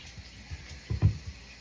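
Shower water runs in a bathroom while a dog is washed, a soft steady spray with a couple of brief splashing bursts, close and fairly quiet.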